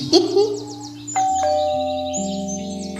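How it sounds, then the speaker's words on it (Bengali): Doorbell in a Bengali detective audio drama, a clear ding-dong chime with sustained ringing tones over background music and birdsong, loud and close. "এই সময় হঠাৎ কলিং বেল বেজে উঠল।"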